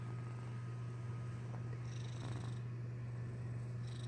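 A male cat purrs close up, a steady, low rumbling hum that continues without a break, with a few soft rustles over it.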